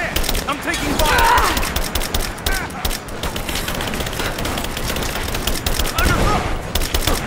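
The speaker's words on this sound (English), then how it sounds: "I'm taking fire!" Heavy automatic gunfire and scattered shots in Rise of the Tomb Raider, loud and sustained throughout, while soldiers shout over the shooting.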